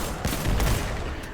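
Rapid loud shots from a 180 RPM solar hand cannon in Destiny 2 sound in a short, dense burst of booming gunfire.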